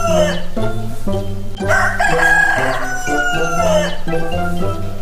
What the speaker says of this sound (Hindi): बेचारा मुर्गा दिन में 3 बार मोर को आवाज देता